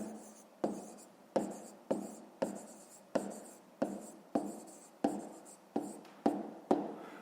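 Numbers are written by hand, heard as a rhythmic series of about a dozen short scratching pen or pencil strokes on paper, each starting sharply and then trailing off, close and fairly quiet.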